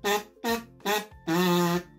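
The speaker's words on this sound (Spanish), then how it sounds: "Este instrumento se llama kazoo." Kazoo played close up, buzzing through four hummed notes with short gaps, the last note held longer, with its characteristic nasal vibrating tone and no talking.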